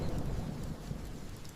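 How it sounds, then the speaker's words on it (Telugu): Heavy rain and thunder make a story sound effect, a short, fairly soft stretch of steady low rumbling and rain wash with no talking. "అలాంటి ఊళ్ళో ఒక సంవత్సరం ఉద్ధృతంగా వర్షాలు పడ్డాయి."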